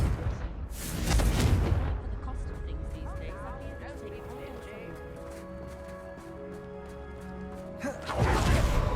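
In Hogwarts Legacy, the Confringo spell lands as two heavy booming blasts, one near the start and one at the end, with lower rumbling and game tones between them.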